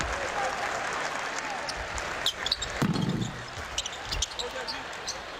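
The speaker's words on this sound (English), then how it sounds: "those who are here, maybe 2-3 dozen of them, all on their feet and applauding the effort by their Cardinals here today" A small crowd of a few dozen Louisville fans claps at a college basketball game against North Carolina, thin scattered applause rising midway under an announcer's commentary, with a ball bouncing on the court.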